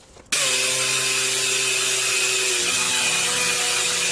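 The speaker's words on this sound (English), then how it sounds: "So I'll just slow it down, sand it, and finish it like I did the other one" Wood lathe spinning sinker cypress while being sanded, switching on abruptly into a loud steady whine with a constant hiss of abrasive on wood that holds to the end.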